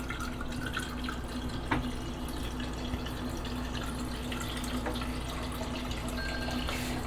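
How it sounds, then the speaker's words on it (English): Tap water running into a glass in a home kitchen during roast chicken prep, a steady close trickle and drip over a constant low hum, with no talking. "I'm going to fill a glass with water."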